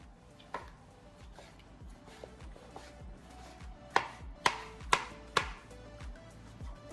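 A knife slices through a jarred roasted pepper on a cutting board, a few sparse taps and then four sharp, evenly spaced chops, close and distinct.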